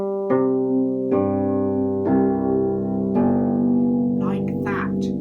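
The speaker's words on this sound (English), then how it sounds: "And the big bass clarinet makes the low sounds." A big bass clarinet plays four low, separate notes in a slow stepwise sequence, each held about a second, full and resonant, with faint breathy sounds near the end.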